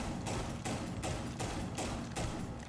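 Shotgun blasts in the tactical shooter game Rainbow Six Siege, fired roughly every half second in a steady run of five or six loud, close shots with no talking.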